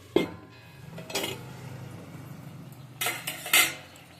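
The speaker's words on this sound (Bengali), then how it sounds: "তবে একবার ঢাকাটা আমি দিয়ে দিচ্ছি।" A metal lid is set onto a cooking pot of amla (Indian gooseberry) pickle with jaggery over a medium gas flame, giving a few sharp clattering clinks spread apart, with quiet pauses in between.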